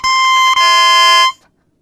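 An oboe's double reed blown on its own without the instrument, giving a loud, buzzy, nasal squawk that holds for just over a second with a brief catch partway through, then stops.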